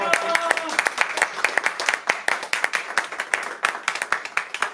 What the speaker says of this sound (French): Et on applaudit très fort, Tania qui a fait la première